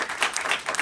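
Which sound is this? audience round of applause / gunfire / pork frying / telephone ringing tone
audience round of applause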